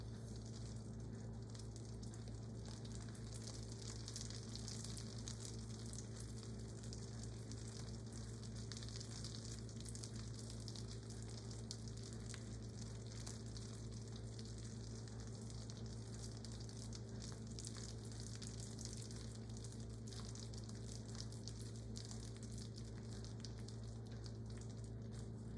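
A pan sizzles steadily on a gas stove, a continuous close frying hiss with low hum beneath, holding an even level throughout with no talk.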